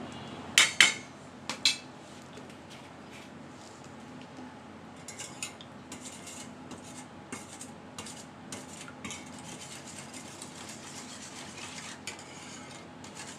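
Egg and black pepper whisked in a bowl for a Spanish omelet, opening with a few sharp clinks of utensil on the bowl, then faint steady scraping and stirring.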